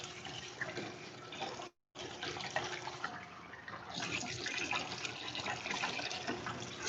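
Soba noodles are rinsed by hand in a basin of water to wash off the starch, a steady close sloshing and splashing with one brief cut to silence partway through, no talking.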